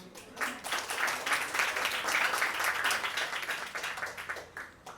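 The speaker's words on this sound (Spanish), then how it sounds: "Unos aplausos para ella, por favor." A crowd at a corporate breakfast applauds, a dense wash of clapping that swells quickly, holds steady for several seconds, then tapers off slightly.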